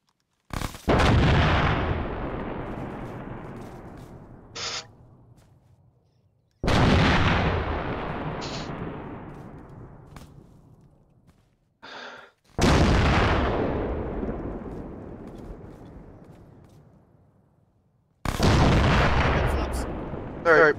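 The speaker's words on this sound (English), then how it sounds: "Yeah, artillery's friendly." Four heavy artillery blasts in a military video game, each a loud boom that rolls and decays over several seconds, spaced roughly six seconds apart, with brief faint sounds between them.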